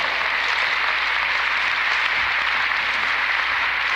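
Steady, dense applause from a large audience at a public event in St. Louis, a continuous loud clapping roar holding evenly for the whole stretch without voices on top.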